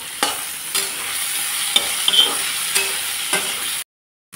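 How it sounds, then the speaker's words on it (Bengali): Chopped onion and slit green chillies frying in a pan, a steady close sizzle broken by several sharp scrapes of stirring, then falling abruptly silent near the end. "এখন এগুলোকে আমি লাল লাল করে ভেজে নিই।"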